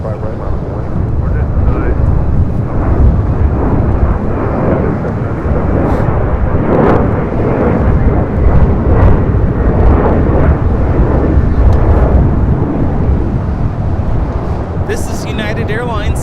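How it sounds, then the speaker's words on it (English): A Boeing 737-900ER jet airliner takes off at LAX, giving a loud, steady, broadband engine roar that holds throughout with wind buffeting, while a voice talks over it. "797 taking off to Los Cabos on a 737-900 ER"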